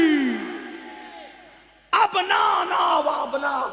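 Crowd at a religious gathering roaring a slogan in unison in reply to a leader's call, a loud, sustained collective shout that bursts in after a long drawn-out solo cry.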